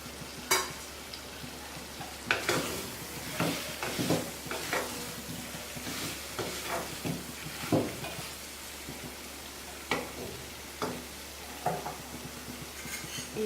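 Fried baby potatoes with garam masala being stirred in a pan, a low sizzle under repeated scraping and clinking of a spoon against the metal, irregular and close.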